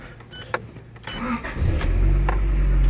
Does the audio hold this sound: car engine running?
yes